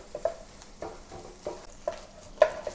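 Minced garlic sautéing in oil with dried shrimp in a pan for a Cantonese fuzzy melon dish, a soft, steady sizzle punctuated by regular spatula taps and stirring scrapes.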